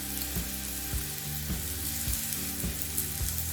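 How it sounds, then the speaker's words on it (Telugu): Masalas, chili powder, soy sauce and tomato sauce sizzling and frying on a hot tava for masala tava pulav, a steady loud sizzle broken by rhythmic scraping strokes of a spatula about every half second. "ఇవన్నీ ఒక 2 మినిట్స్ వేయించుకోవాలి."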